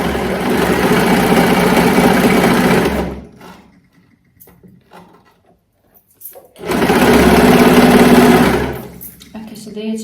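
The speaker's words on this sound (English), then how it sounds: "And I'm going to put the fabric in." A Brother 2504D overlocker stitches through test fabric in two loud, steady whirring bursts separated by a quiet pause with small handling clicks.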